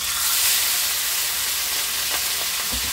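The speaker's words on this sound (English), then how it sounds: "fry them. Just put them in our pot, let them brown a little." Pork pieces for Jamaican oven jerk pork fry and brown in a pot, giving a steady, close, dense sizzle throughout with a few faint stirring knocks near the end.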